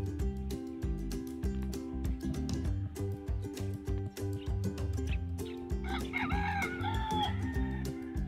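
Boholano native chickens at the growing stage crow and cluck near the end, a few sharp calls rising over steady rhythmic background music.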